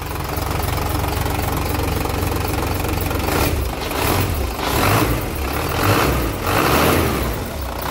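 A Fuso Fighter wingvan truck's fully mechanical 6D16 diesel engine idles steadily up close, a continuous low knocking rumble with some louder clattery swells toward the end.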